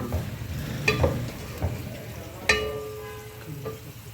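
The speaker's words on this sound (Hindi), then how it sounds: "मैंने 2 चम्मच भर के इसमें अदरक लहसुन का पेस्ट शामिल किया, इसको भी अच्छे से फ्राई करूँगी" Chicken, onions and ginger garlic paste frying in hot oil in a home kitchen: a soft, steady sizzle punctuated by a few sharp clinks and scrapes of a stirring utensil against the pan, close and alone.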